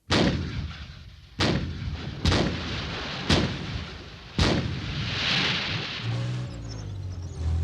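A Centurion AVRE armoured engineer vehicle fires its gun at a target during a British Army exercise, loud heavy blasts repeating about once a second, five in all, each with a rolling echo, and a low engine rumble rises at the end.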